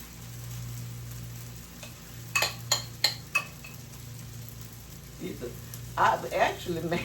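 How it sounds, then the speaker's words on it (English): Hot water cornbread sizzles in a skillet with a low, steady frying hiss, broken by several sharp clinks and scrapes of a utensil against the pan in the middle and at the end. "You can hear it sizzling in the skillet."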